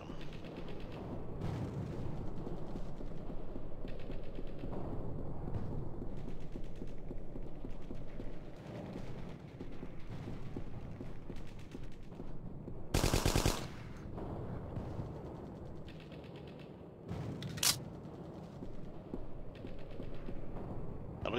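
Submachine gun fire from an MP40 in the World War II shooter Hidden & Dangerous, a dense battle soundscape of rattling automatic bursts with a sharp, loud burst near the middle and another brief crack shortly after.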